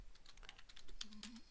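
Quick bursts of typing on a computer keyboard, crisp key clicks close by in an uneven run lasting a second and a half, with no voices.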